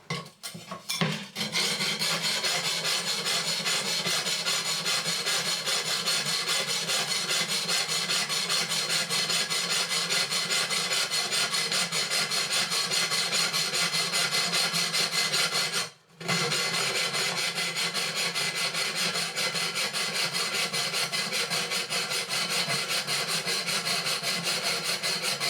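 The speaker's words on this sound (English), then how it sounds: "I just had a quick go there with the tile saw, and it does actually cut the tile quite easily." Tile saw cutting a ceramic wall tile to fit around a pipe entry, a steady, continuous rasping whine held for about twenty-five seconds, broken by one brief pause midway, with no talk.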